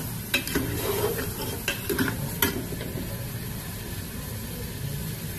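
Two medium chopped onions with salt frying in a pan, a steady close sizzle with a few sharp clinks of stirring near the start.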